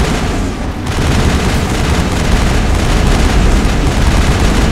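Rapid, sustained gunfire from the video game Mass Effect, dense and loud, with overlapping shots and blasts forming an unbroken barrage for the whole stretch.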